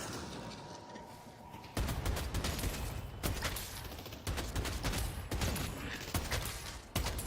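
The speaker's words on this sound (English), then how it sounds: "I like it when you shoot your pew-pew." Rapid game gunfire in a video game, with sharp bursts of shots recurring through the clip over a dense, noisy battle background, fairly loud and without speech.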